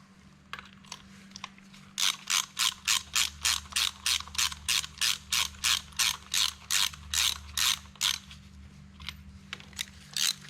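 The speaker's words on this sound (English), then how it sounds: "tighten down these 3 bolts" A ratchet wrench tightening bolts during work on a Minneapolis Moline A4T tractor: a fast, even run of sharp metallic clicks, close and loud, in two long bursts separated by a short pause.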